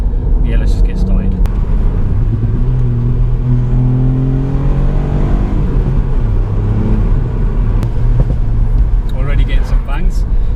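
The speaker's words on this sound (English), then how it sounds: "The car sort of like buzzes a bit in a way." A 2019 Ford Fiesta ST MK8 with the 3-cylinder engine and performance pack driving, its loud buzzy engine note rising and falling through the gears in a steady cabin drone, with a few pops near the end.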